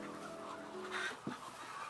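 Chickens clucking in a large poultry shed holding about 10,000 birds on a farm in Léogâne, Haiti, a soft murmur of fowl calls with a brief louder squawk near the middle, no talk.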